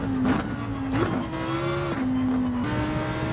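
A race car engine in Gran Turismo 7 revs hard, its pitch stepping up and dropping through gear changes, loud and continuous.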